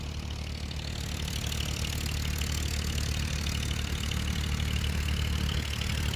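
A heavy motor pump dewatering a flooded construction site at the Amaravati High Court drones without a break, a continuous mid-pitched mechanical rumble close by.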